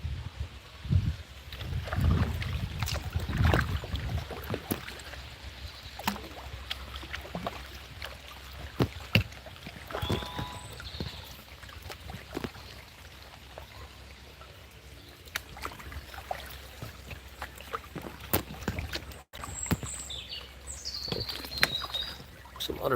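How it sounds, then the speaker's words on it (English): Kayak paddles dipping and splashing on a river, with water trickling and gurgling around the hull and light wind noise, steady and close throughout. "Some other people kayaking."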